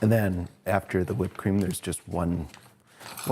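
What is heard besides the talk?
No everyday noise stands out behind the speech.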